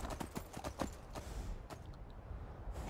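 Rapid hoofbeats clatter in a quick, steady rhythm as a horse gallops in modded Skyrim, up close, with a faint background hum.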